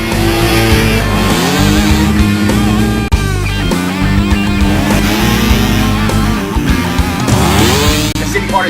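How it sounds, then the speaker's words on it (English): Race cars speed around a track with loud, continuous high-revving engines whose pitch sweeps up and down as they pass, over layered music and an excited race commentator. "They come out of long haul and Turbo Kid has kept the lead"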